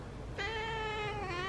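A white cat lets out a single drawn-out, whiny meow with a rising then sustained tone, close and clear, heard alone after a brief quiet moment.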